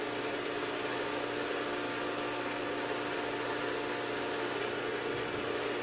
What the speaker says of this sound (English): it will only take one pass with the fine grit abrasive